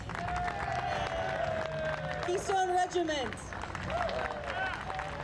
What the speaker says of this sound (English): how about one more applause for all our performers?